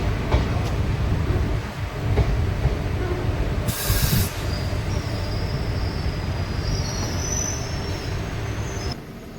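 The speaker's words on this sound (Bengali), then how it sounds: "ট্রেন এসে পৌঁছালো তার ফার্স্ট হল্ট ঘোড়মারা স্টেশনে" The Mayurakshi Express rolls into Ghormara, a small, dimly lit halt on a hilly Jharkhand line. A loud, continuous rumble of wheels and carriages is cut by a brief, sharp squeal partway through, with no voices.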